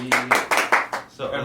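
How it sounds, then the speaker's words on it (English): A few people clap to celebrate a graduation, giving about five distinct, evenly spaced claps close by in quick rhythm before a voice takes over. "She just graduated today, so we can clap it up."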